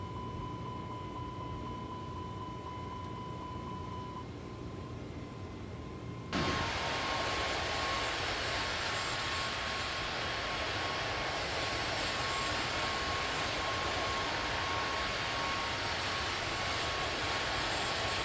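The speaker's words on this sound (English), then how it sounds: "It's not a very long flight, especially for an A320." Airbus A320 in flight in Microsoft Flight Simulator 2024, a steady broadband engine and airflow roar that jumps louder partway through and holds, with a faint tonal hum underneath and no talk.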